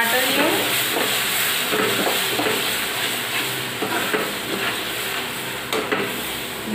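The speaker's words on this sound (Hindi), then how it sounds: "इसको मसाले को टमाटर को हम अच्छे से भून लेंगे जब तक ये हमारा ऑयल रिलीज ना कर दे" Grated tomatoes fry with masala in an oiled pan, giving a steady, close sizzling hiss broken by frequent stirring scrapes throughout.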